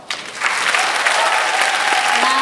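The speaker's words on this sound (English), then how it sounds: "So why don't we give them another round of applause?" Steady audience applause rises quickly and holds dense and loud for instrument performers at a Taste of Asia event, with faint voices mixed in.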